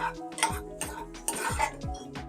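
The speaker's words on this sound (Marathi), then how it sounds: "आता हे सगळं अगदी 2 मिनिटासाठी तेल आणि बटरमध्ये चांगलं परतून घ्यायचंय।" Ingredients stirred and sautéed in oil and butter in a pan for egg drop soup, with a spoon scraping and clinking against the pan in repeated strokes over a low sizzle, close and clear.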